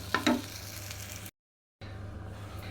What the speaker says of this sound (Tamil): முள்ளங்கியை நம்ம தனியாக வணக்க போகிறோம்.